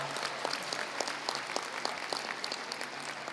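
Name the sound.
audience applause at a banquet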